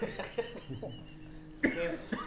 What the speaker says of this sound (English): If you need to cough it out, cough it out.